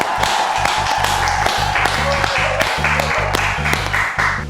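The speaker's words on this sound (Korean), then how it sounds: "박수." Clapping on a Korean talk show set, mixed with steady rhythmic background music that runs throughout at an even, fairly loud level.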